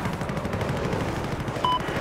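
Rapid automatic weapon fire in the Battlefield 4 shooter game, a dense steady stream of shots at moderate loudness with a brief sharp tone near the end and no voices.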